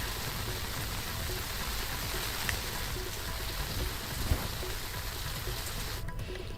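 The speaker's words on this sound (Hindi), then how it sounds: "तो वहीं शाम को शुरू हुई मूसलाधार बारिश। तेज गरज के साथ हो रही है बारिश।" Torrential evening rain pours steadily in Kondagaon, a dense continuous hiss of drops on surfaces with one brief low rumble partway through, no voices.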